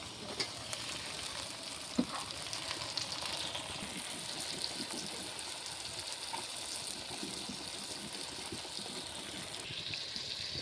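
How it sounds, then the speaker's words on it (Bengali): Tomatoes going into onions fried with ginger and cumin, a steady hiss of sizzling oil with stirring scrapes and a sharp tap near the start, heard alone. "তো ভালো করে ভাজা হয়ে গেছে এখন দিয়ে দিচ্ছি টমেটো দিচ্ছি"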